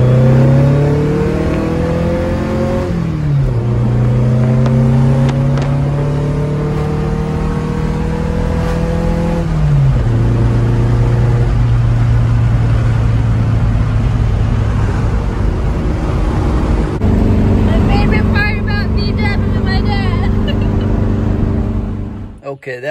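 An old Volkswagen driven with its original stock shifter: a loud, close engine drone that climbs in pitch as it revs, drops sharply at each gear change, then pulls up again, with steady road and cabin noise throughout.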